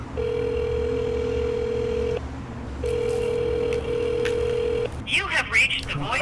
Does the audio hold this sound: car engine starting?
no